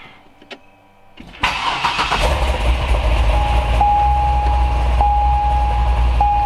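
A car engine cranks briefly, then catches and settles into a steady, rumbling idle, close by, with a faint repeating chime in the background.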